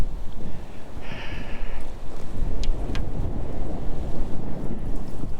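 Wind buffets the microphone loudly and without a break beside a cold trout stream, a steady low roar of gusts with no talking heard.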